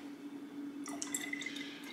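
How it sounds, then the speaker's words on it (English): Homemade hummingbird nectar is poured from a spouted measuring cup into a feeder, making a soft, trickling, dripping liquid sound that begins partway through over a faint steady hum. "I'm pouring in about half my mixture"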